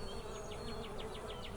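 Honey bees swarm around an opened hive during a honey pull, a steady close buzzing drone with a repeating wingbeat whine as individual bees circle near the box.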